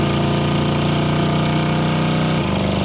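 A 1970 Ford Mustang Convertible V8 running under load on a test drive, a loud, steady engine drone with a slight pitch change near the end, close and with no talking.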